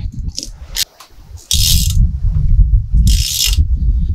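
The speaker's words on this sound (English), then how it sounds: "We're going to drive it down with our ratchet, and then we'll torque it to 250 foot-pounds with our torque wrench." A hand ratchet drives down the front hub nut on a 2014 Ford Explorer axle, with close, loud bursts of rapid ratcheting clicks separated by quieter pauses and no talk.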